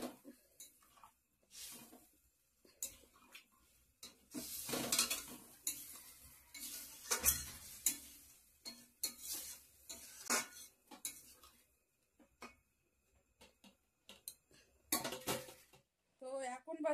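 Chicken curry being stirred and sautéed in a pan, with a spoon scraping and clinking against the metal in irregular bursts and a faint sizzle underneath, under occasional talk.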